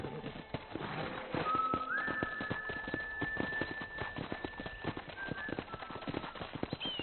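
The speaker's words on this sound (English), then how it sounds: "I picked out a fine horse for you." Steady clip-clop of horse hooves at a walking pace in the video game Red Dead Redemption, with a faint whistle-like tone running above the rhythmic hoofbeats.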